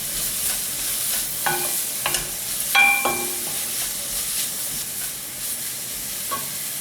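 Chopped ginger and green chili sautéing in a pan for chicken curry, a soft steady sizzle with a few sharp scraping stirs of a spoon against the pan, fairly close and without talk.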